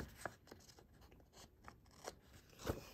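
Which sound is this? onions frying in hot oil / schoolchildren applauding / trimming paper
trimming paper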